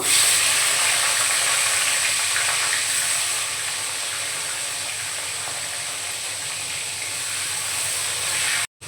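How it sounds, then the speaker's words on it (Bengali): Capsicum fries lightly in hot oil left from frying potatoes, a steady bright hiss and sizzle that carries on evenly before cutting off abruptly at the end. "ওই তেলের মধ্যে আমি ক্যাপসিকামটা হালকা করে ভেজে নেব"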